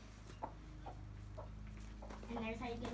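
Chicken clucking on a farm as it is caught, soft repeated clucks under ongoing people talking nearby, with some low rumble in the background.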